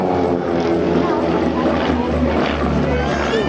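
Autogyro propellers at an air show drone steadily and loudly as the craft fly close together in line astern formation, a continuous engine and airscrew hum with no breaks.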